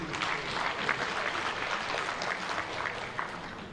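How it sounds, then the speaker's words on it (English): An audience at the Uganda-China Economic Investment and Trade Cooperation Forum 2017 claps in a continuous, moderately loud round of applause, with many hands blending into an even patter. "Ladies and gentlemen, another round of applause for Pan Lee,"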